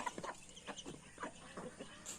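Backyard chickens on a small hillside farm plot give soft, repeated clucks, faint and scattered against a quiet outdoor background with no speech.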